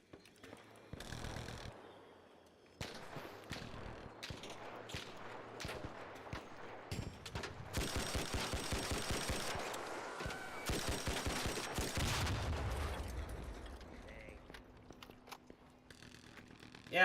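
Video game gunfire from a multiplayer match, with bursts of rapid shots and sharp cracks, some dense and loud, others sparser and farther off, running through most of the stretch.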